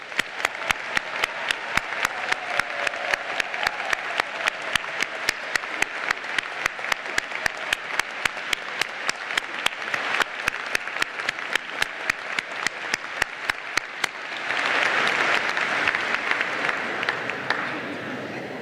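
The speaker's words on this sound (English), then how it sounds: "join me in giving you a round of appreciative applause" A commencement audience at a law school ceremony applauds the graduates' parents with sustained, even clapping that swells slightly louder near the end, a crowd-wide round with no talk over it.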